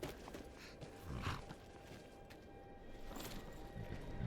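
Horse hooves clip-clopping in the video game Skyrim, a soft steady patter of hoofbeats at moderate distance over a faint ambient game background.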